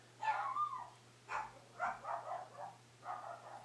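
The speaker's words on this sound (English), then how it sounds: "Don't mind the dog barking either." A dog barks several times in the distance, quiet, short, muffled bursts spread across a few seconds over a faint steady hum.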